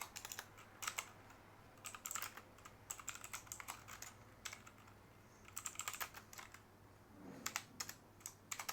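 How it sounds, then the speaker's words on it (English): Keys clack in quick irregular bursts on a computer keyboard, steady typing that pauses briefly and resumes, close and fairly quiet over a faint low hum with no voices. "So let's type in our function."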